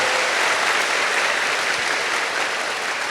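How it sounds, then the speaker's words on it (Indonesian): A hall audience gives Universitas Terbuka a steady, dense burst of applause, many hands clapping loudly and continuously without a break. "Kita berikan aplaus yang meriah untuk Universitas Terbuka"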